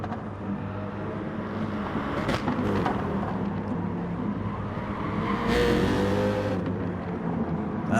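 Two BMW racing cars in a racing video game drone and rev in close company, the engine whine rising and falling as they run neck and neck round corners, swelling louder for a moment as one closes in.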